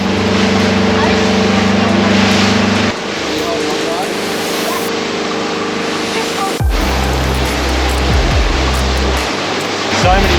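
A rental motorboat runs out toward an island with a steady engine drone under rushing water and wind. The engine pitch shifts partway through, and faint voices may be mixed in.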